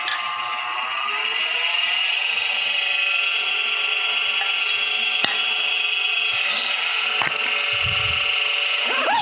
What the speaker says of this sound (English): So let's start off real quick with a planing cut.